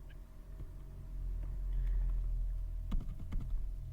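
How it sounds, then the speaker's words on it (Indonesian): Several quiet clicks of computer keyboard arrow keys, scattered at first and then a quick cluster near the end, over a low steady background hum with no speech. "ini saya dapat menggunakan tombol tanda panah pada keyboard saya untuk mencarinya"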